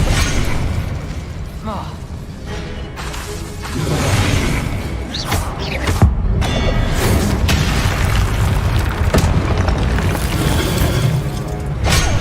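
Expelliarmus and other spells are cast in Hogwarts Legacy: repeated magical bursts, booms and crackling impacts over a busy game soundscape, with a voice calling out between them.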